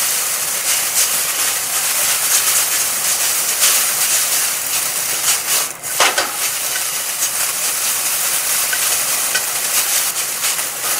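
Nissin yakisoba bagged noodles sizzle steadily in a pan, frying until lightly browned, a dense continuous hiss with faint clicks and stirring scrapes throughout.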